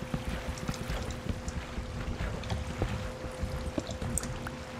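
Continuous flowing water in the video game Minecraft, a steady, fairly quiet rushing wash with faint splashing detail throughout and no voices.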